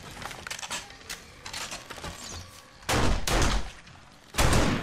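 Gunfire in 7 Days to Die, a hardcore Alpha 17 session: scattered shots early on, then two loud, sustained bursts of firing close by.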